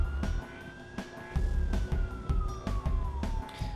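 A police siren from the Watch Dogs video game wails with a slowly sliding tone. It sounds close and loud over a run of repeated thumping impacts and engine rumble during a chase.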